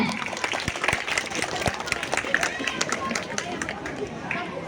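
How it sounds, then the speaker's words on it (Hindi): A school debate competition audience gives a steady, dense round of applause to welcome a candidate, a close wash of many hands with crowd murmur underneath. "जोरदार तालियों के साथ स्वागत करें।"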